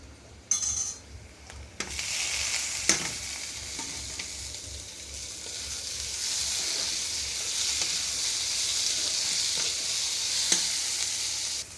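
Onions and curry leaves frying with cumin and mustard seeds for a cluster-bean curry, an initial clatter giving way to a strong, steady hiss of oil that stays close and loud, with occasional utensil taps.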